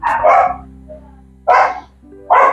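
Hungry dogs bark in loud bursts near an outdoor cooking spot where squid adobo is being cooked, three clustered barks separated by brief pauses over a low steady hum.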